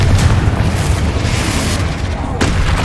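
A Confringo fire-blast spell explodes in the Hogwarts Legacy video game, a loud, dense blast with a heavy rumbling boom that fills the whole moment, with a brief voice in the mix.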